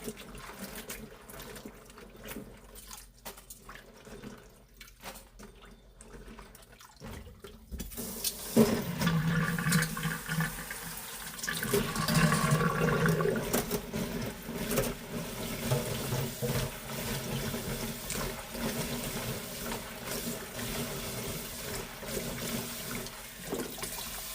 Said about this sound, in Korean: 고추는 깨끗이 씻어줍니다